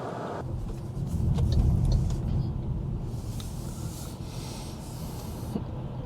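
A 2021 MG ZS EV electric car pulls away on a cold morning in Sydney, a soft low rumble of tyres and road noise that swells briefly, then settles into a steady quiet hum heard from inside.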